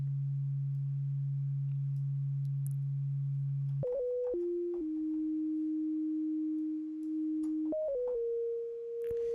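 A synth bassline built in Reaktor, its filter swept by an LFO: a steady low sine-like tone holds for about four seconds, then jumps to higher sustained pitches that step down and up in clean, isolated notes.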